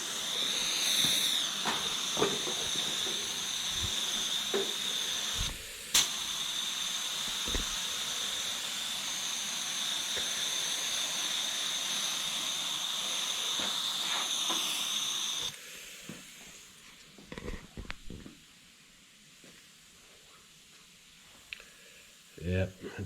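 A spray gun lays clear coat over metal flake paint on a vintage kneeboard, a steady, loud, close hiss that runs for about fifteen seconds, then stops, leaving quieter handling clicks and brief spray bursts near the end.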